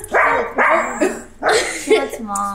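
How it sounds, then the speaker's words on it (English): Several dogs bark in a run of loud, close yips and barks at a family birthday gathering, with a brief voice sounding among them. "I know these dogs want to also say hi too."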